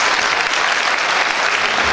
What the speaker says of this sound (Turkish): Bir alkış da ona alabilirsek.